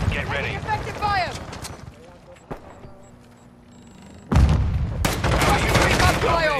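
Gunfire and explosions in the Modern Warfare 2 video game, during a Hardpoint match on Koro Village: close shots and a sudden loud blast with sustained rumble, alongside radio-style voice callouts.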